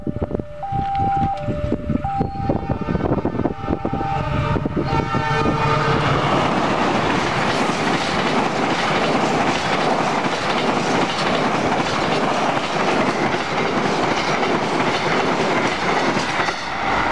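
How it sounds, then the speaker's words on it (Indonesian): The Fajar Utama Solo passenger train in Indonesia rumbles past up close, steady clickety-clack of wheels over rail joints, with a few tonal horn or bell notes in the first seconds. "kereta api Fajar Utama Solo"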